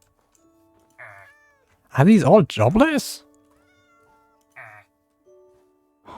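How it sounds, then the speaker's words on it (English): Cats meow in a Christmas-themed video game, two short tonal mews near the start and end bracketing a louder burst of rising and falling cries in the middle, with a voice talking in between. "So many cats."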